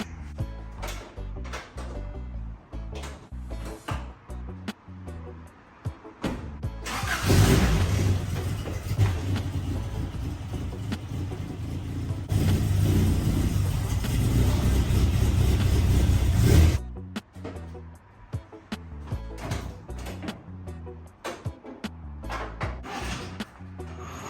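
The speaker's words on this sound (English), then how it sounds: "Let's get the truck pulled in and let's get started." 1987 pickup truck pulled into a garage, a loud engine running steadily for about ten seconds in the middle, framed by quieter knocks and rustling before and after.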